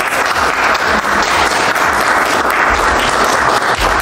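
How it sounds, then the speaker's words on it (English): A crowd at the presidential inauguration applauds loudly and steadily, a dense, continuous wash of clapping close by. "Pause for applause."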